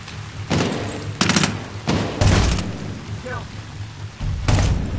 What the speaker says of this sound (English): AK. Ooh, AK, I love the AK.